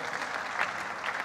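Steady applause from an audience at a festival programme presentation, a dense even wash of clapping with no voices, held at moderate level for just over a second.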